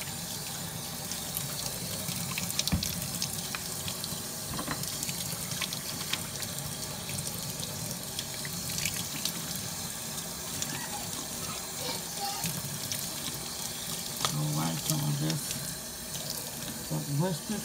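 Tap water runs steadily into a sink while hair is rinsed, a continuous broadband wash with small splashes and clatters, close and moderately loud throughout.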